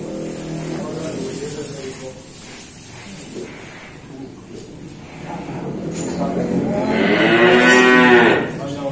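A cow at a cattle dealer in Indonesia lets out a long, loud moo near the end, with people chatting throughout the recording.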